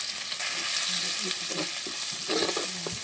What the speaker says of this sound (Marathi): थोडंसं हे परतवून घेते